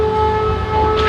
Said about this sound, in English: As air raid sirens ring across Ukraine